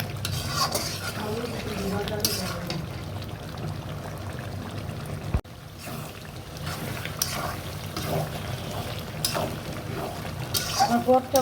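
Beef tripe being stir-fried in a pan: a spatula scrapes and stirs repeatedly over a constant low sizzle, with a brief clatter of metal against the pot.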